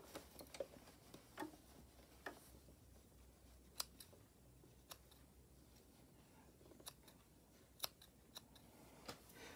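Scissors snip loose threads off sewn fabric for an 18-inch doll dress, a scattering of sharp, quiet clicks at irregular intervals over a faint, hushed room background, no talking.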